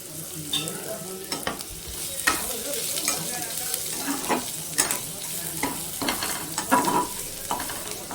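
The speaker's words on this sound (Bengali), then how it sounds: "এবারে আমি রসুন আর আদাটাকে ভেজে নেব।" Garlic and ginger frying in a pan over very low heat, soft continuous sizzling broken by irregular scrapes and clicks of stirring, close and alone without talk.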